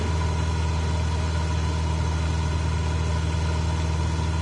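A propeller aircraft engine in Microsoft Flight Simulator drones steadily on a cargo flight over Arizona mountains, loud and constant with a strong low hum and no break in tone.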